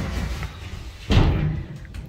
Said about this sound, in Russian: Вот эти двери раздвижные.